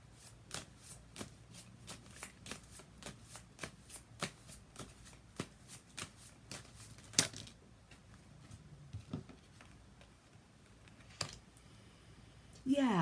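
Tarot cards shuffled by hand in a steady run of crisp riffling snaps, fairly close, with a few sparse slaps near the end and no talking.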